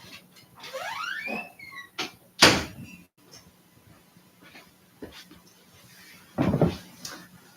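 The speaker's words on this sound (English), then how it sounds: "Let me shut the door." A door is shut indoors with a sharp close thud, followed by a later second heavy knock and faint shuffles, with a whining squeak heard beforehand and quiet room tone between.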